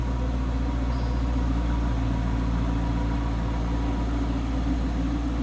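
A 2013 Dodge Challenger R/T engine idles with a steady, deep, low rumble that stays even throughout, close by and with no talk.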